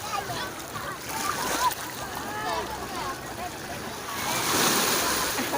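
Waves wash and splash near a sea beach shore while children shout and squeal over the water, voices overlapping the surf throughout.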